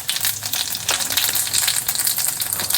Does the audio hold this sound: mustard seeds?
yes